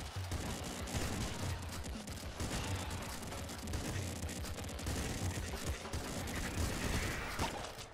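Continuous dense gunfire from the top-down shooter Nuclear Throne with the Ultra mod, a steady barrage of rapid shots and impacts at even loudness for the whole stretch, with faint talk underneath.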